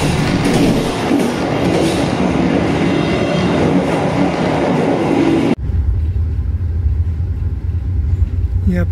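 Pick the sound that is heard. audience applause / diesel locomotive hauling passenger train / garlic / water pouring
diesel locomotive hauling passenger train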